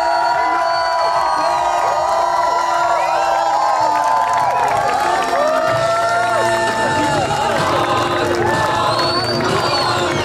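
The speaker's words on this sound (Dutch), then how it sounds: "maak nog één keer een luid en oorverdovend applaus voor de winnaar van deze" A loud outdoor crowd cheers, whoops and claps for the winner of a Red Bull Full Moon Bommetje cannonball-diving contest, with many overlapping shouting voices throughout.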